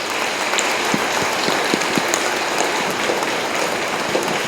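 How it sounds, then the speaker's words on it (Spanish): Applause from a congregation at a novena and rosary gathering for the Señor de la Exaltación, a dense, even wash of clapping that holds steady without voices standing out. "vamos a dar un aplauso al Señor de la Exaltación"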